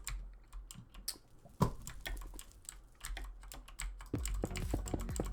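Rapid computer keyboard typing with sharp spacebar presses during a Minecraft build session, a quick irregular run of close, crisp clicks with one heavier thump midway and denser tapping near the end.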